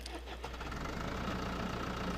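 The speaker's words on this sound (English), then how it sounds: "the little tractor engine" A small tractor engine in Farming Simulator 2013 runs at a steady idle, a continuous low rumble with faint knocking, close and alone.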